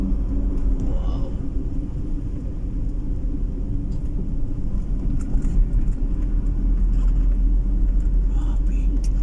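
Heavy trucks crowd a road on Panay Island, Iloilo, with a steady loud engine rumble and passing traffic drone throughout, and no clear individual pass-bys stand out.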